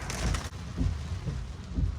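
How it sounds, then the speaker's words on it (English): Steady rain drums heavily with a constant low rumble, heard from inside a Tesla driving through flooding, with faint rhythmic thumps of the wipers. "It's really raining bad"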